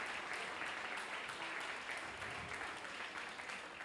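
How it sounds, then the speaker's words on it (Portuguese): A church congregation gives a round of applause for a pastor, steady clapping throughout at a fairly distant, subdued level with no talking over it. "Dê uma salva de palmas"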